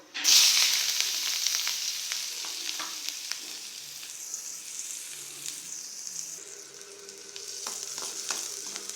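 Oil sizzling steadily in a pan as mustard seeds and onions fry, with occasional stirring clicks and scrapes; a continuous crackle with no voices.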